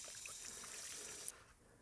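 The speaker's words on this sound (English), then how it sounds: "Just wash them down with a water hose." Water poured or sprayed from a hose over a fish-cleaning table, a steady close splashing wash that runs continuously then cuts off near the end.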